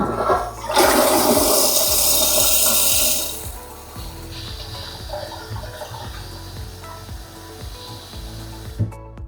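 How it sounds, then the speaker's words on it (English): A HOROW N30 non-electric bidet toilet flushing, a loud close rush of water for about three seconds that drops to a softer refilling trickle and gurgle, with no talking. "let's check out this flush in person"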